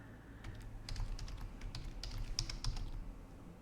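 Fingers tap on a computer keyboard in a quick, uneven run of soft clicks, close by and fairly quiet.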